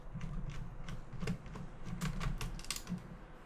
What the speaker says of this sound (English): There are 2 little screws here at the front. Just remove them.